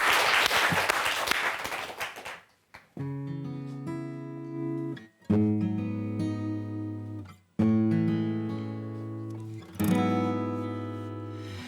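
Crowd applause roars for about two seconds, then gives way to music with sustained, steady tones.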